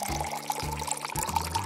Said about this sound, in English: Pour water into a plastic box.